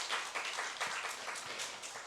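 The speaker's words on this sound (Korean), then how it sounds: "우리 장로님 그 결심 박수 한번 부탁드리겠습니다" A church congregation applauds during a Sabbath worship service, with scattered, fairly faint hand claps in an uneven rhythm that carry some room echo.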